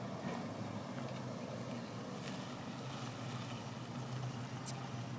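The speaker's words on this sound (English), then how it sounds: "You can hear that turbocharger." A 1987 Buick Regal Grand National with the 3.8 turbo engine runs at a steady idle, its low engine hum and faint turbo whistle continuous and moderately quiet, with no talk.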